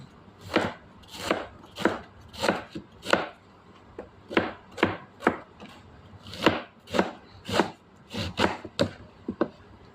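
Close, rhythmic knife chopping of food on a board: a quick series of crisp thuds in short bursts, some twenty cuts with brief pauses, and no talking.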